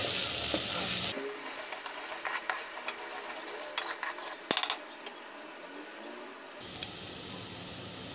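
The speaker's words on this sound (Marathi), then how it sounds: "चांगलं फिरवून घेऊया।" Chicken curry sizzles in a pan while a spatula scrapes and rattles through it, with a louder hiss at the start and end and a sharp clatter midway, close and with no voices.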